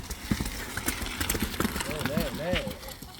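Hooves of oxen pulling a bullock cart in Medapuram village clop in an uneven, steady rhythm at close range, with faint voices and a few rising and falling calls in the background.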